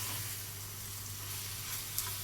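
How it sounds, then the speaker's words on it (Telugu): Onions frying with salt and ginger garlic paste in a pan, a steady close hiss of sizzling oil with one small pop near the end and no talk. "సో ఈ రెండు వేసి కొంచెం ఫ్రై అయ్యిద్దాం"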